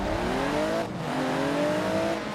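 A 1991 GMC Syclone pickup launches off the start line in Forza Horizon 4, its engine note climbing through two rising revs with a brief dip at a gear change.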